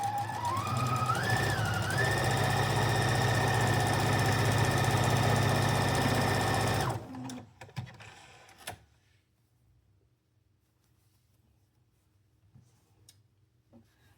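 A Husqvarna Viking Platinum 735 sewing machine stitches steadily at close range with a loud, continuous mechanical whir for about seven seconds, then stops, leaving a few faint clicks and near-silence.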